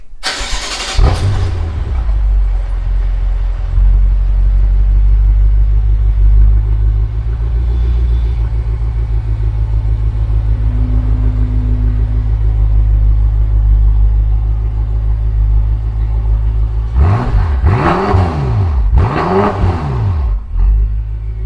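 A Honda Civic Type R (FK8) engine cranks and fires up, settles into a loud steady rumbling idle, then is revved hard several times in quick bursts near the end.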